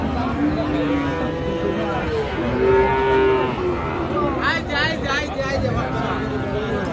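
Cattle moo repeatedly at a Frisian heifer-calf cattle market in Raniganj, Dinajpur. The drawn-out calls sound amid steady crowd chatter and market noise, with people talking nearby.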